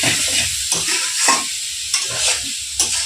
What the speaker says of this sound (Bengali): এই পেঁয়াজ ভাজা চলছে